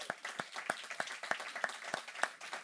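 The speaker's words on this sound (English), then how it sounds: "I ask a big round of applause" Applause from a book-presentation audience, sounding as a thin scattering of individual claps at a steady, fairly sparse pace, moderately distant and not very loud, with no talk over it.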